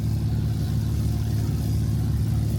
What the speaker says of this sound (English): The engine settled into its rhythm